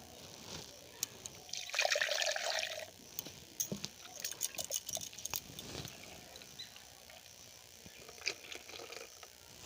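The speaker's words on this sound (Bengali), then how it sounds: "এবার আমি এই মিক্সিং জারটা ধুয়ে জলটা দেব।" Water rinsing a mixer jar in a home kitchen, a short gushing pour followed by sloshing, trickling and scattered splashes and clinks, fairly close and moderately loud.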